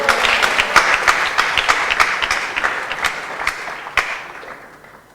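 An audience of devotees at a Prabhupada Marathon awards ceremony applauds, a dense wash of many hands with a few sharper individual claps standing out, moderately loud and tapering off toward the end.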